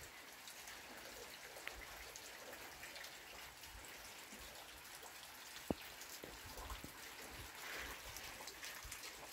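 Autumn rain falls steadily during an outdoor walk, a soft continuous hiss with scattered drips and one sharper drop tap, quiet and even throughout with no talking.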